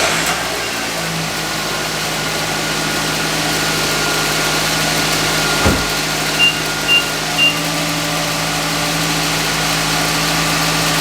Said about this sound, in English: So now we're going to start up the car